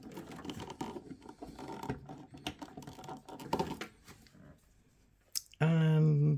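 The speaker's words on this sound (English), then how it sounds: "Taking the extra 4 pins off the main motherboard connection because we don't need them." Plastic clicks and rattles as the extra 4-pin section of an early-2000s Pentium 4 PC's main motherboard power connector is worked loose, a close burst of small scraping snaps followed by a quieter pause and then a sudden loud steady hum.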